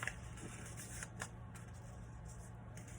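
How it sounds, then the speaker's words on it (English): Sheets of paper are torn and folded by hand at close range, giving soft crinkling and creasing rustles in short bursts over a steady low hum, with no voices. "I would tear it in half, and then I fold it"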